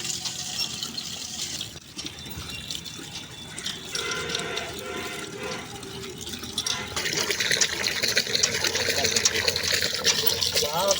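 Water pouring steadily from a newly installed hand pump, a broad continuous rush that swells louder in the last few seconds, with faint voices in the background.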